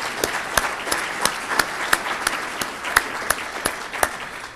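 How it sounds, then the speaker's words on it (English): Sparse, scattered clapping from a modest audience at an agricultural broadband summit, honoring its panelists and speakers, with individual claps standing out in an uneven rhythm over a soft background. "Let's give them a round of applause."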